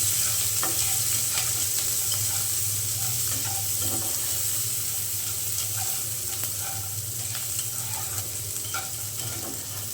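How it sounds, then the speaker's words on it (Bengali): Chopped green chilli, onion and garlic fry in a pan, a continuous bubbling sizzle broken by repeated stirring clicks and scrapes, close and steady with no one speaking. "এখন দিয়ে দিলাম কাঁচামরিচ পেঁয়াজ আর রসুন কুচি"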